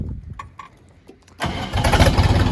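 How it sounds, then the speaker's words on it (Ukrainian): A few faint clicks, then a Horst L244XU tractor's large engine cranks and catches, settling into a loud, rough idle close by. "давайте запустимо даний трактор"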